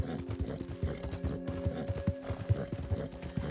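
Horse hooves clip-clop in a steady, fairly close rhythm in Red Dead Redemption 2, with faint mechanical clicking and a low tonal hum from the game beneath, and no talking.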